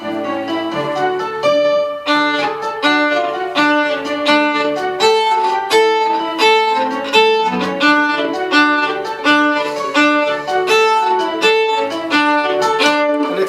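Violins play a lively tune in a steady, bouncing rhythm, bright and close with repeated accented notes and no talking.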